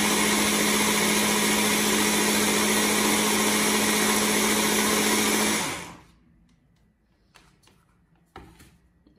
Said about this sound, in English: how to grind it and do real almond flour